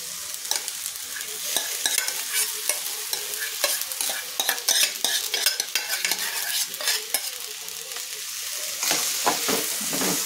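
Cooked rice is stirred into a hot jaggery and coconut filling with irregular scraping and clattering strokes over a soft sizzle, close up and without voices.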